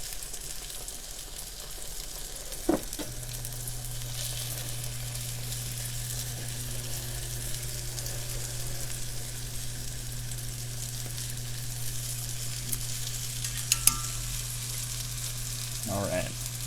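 King trumpet oyster mushroom pieces pan-fry in a hot pan with a steady, crackling sizzle under a low hum, broken by a couple of sharp clanks of utensil against pan.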